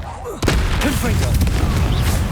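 A Confringo explosion spell goes off in Hogwarts Legacy, a sudden loud booming blast that sets off a dense run of rumbling impacts and crackles while a voice talks over the din.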